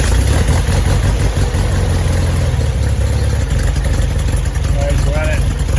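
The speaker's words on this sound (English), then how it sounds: "Let's fire it up and see where we're at." An air-cooled VW Beetle engine with a 6-volt generator idles loudly and close by, a steady rumbling chug that fills the whole stretch.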